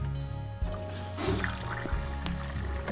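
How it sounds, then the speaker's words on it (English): Hot water is poured into freshly brewed coffee in a camper van in Utah, making a close, steady, splashing stream that runs throughout. "I let it brew, and then I add hot water to it so it's not like cowboy coffee"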